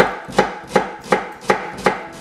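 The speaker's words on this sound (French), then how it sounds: "on va prendre notre échalote et on va la couper finement" A knife chops a shallot finely on a board, six crisp, evenly spaced strokes in a steady rhythm, close and clear with no voices.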